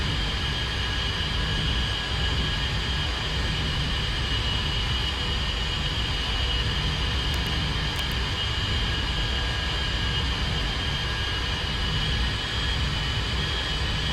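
An A-10 jet in a flight simulator flies with a steady, loud, unbroken engine roar and whine that holds level throughout with no talking.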